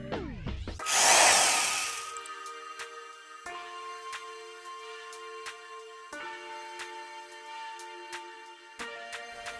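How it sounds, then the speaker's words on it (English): A power drill bores holes while a small spring keeps the bit straight. A loud initial burst of drilling gives way to a steady high whine, with several short rhythmic runs and brief pauses between them, and no talk. "even a tiny spring can keep those drilling holes perfectly straight"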